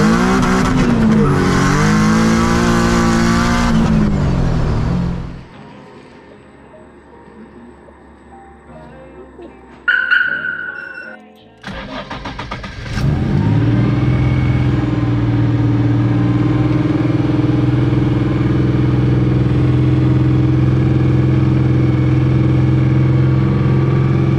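A swapped Nissan S15 engine screams loudly through hard street pulls, rising and dipping in pitch, then drops away to a quiet idle before another sharp burst and a sustained, steady roar.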